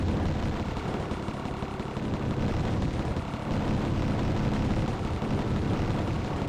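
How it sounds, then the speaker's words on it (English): Rapid, continuous weapon fire in the Tyrian 2000 shooter game, a dense barrage of booming shots and explosions that runs loud and unbroken throughout. "I am shooting out a massive amount of pew-pew"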